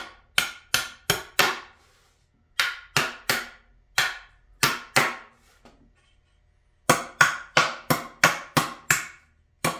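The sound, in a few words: hammer whacking nails out of pallet boards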